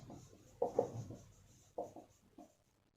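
Handwritten chemical equation for ethanol and acetic acid forming ethyl acetate and water, with short scratchy pen or marker strokes in a few brief bursts, close and fairly quiet, no talking.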